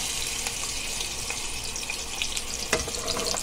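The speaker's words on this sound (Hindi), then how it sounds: "और इसको बारीक आंच पे भूनने का" Moong dal roasts in a pan over a low flame, giving a steady, soft sizzling hiss with occasional light scrapes and crackles, close and continuous with no talking.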